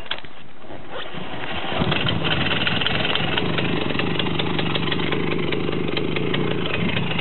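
A Romet motorcycle engine, after a quiet moment, rumbles into a loud, steady idle that holds evenly and close by without revving for the rest of the stretch.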